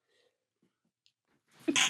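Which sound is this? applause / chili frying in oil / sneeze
sneeze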